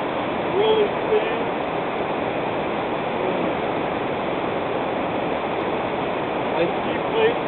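The South Fork Nooksack river rushes with a steady, broad roar of flowing water, loud and continuous, with a voice faintly over it.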